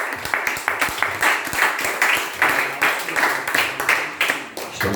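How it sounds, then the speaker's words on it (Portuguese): Church congregation clapping during a Portuguese sermon, rhythmic, somewhat uneven hand claps close by, continuing steadily, with voices faintly mixed in. "Você pode aplaudir o nome do Senhor"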